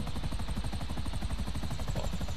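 A helicopter in GTA V sends out a steady, rapid rotor chop over a droning engine hum. The regular blade thumps continue without a break and no one talks.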